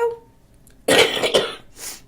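A person with a cold coughs in a sharp burst of two or three harsh, loud coughs close to the mic, followed by a softer throat-clearing rasp after a quiet start.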